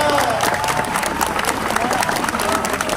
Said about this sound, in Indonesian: Tepuk tangan buat Sayyidina Mustafa.